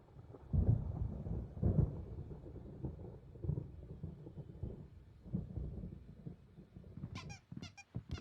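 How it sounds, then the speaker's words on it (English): A thunderstorm in the video game Alan Wake Remastered rolls as low, faint rumbles of thunder, with a few sharp squeaks near the end. "There's a storm coming. Oh, what a storm."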